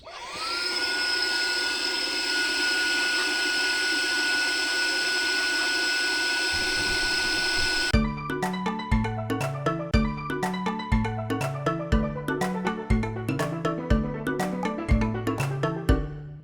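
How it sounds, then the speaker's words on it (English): An Airspirit Max rechargeable air pump inflating a pack raft gives a loud, steady electric whine that rises slightly in pitch as it spins up, holds for about eight seconds and then stops, followed by rhythmic music. "I'm using the Airspirit pump, the one that was sent to me to review, to inflate my pack raft today"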